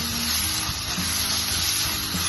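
Smelt cooking with coconut sizzle steadily in a hot pan, a close, even frying hiss that runs without break.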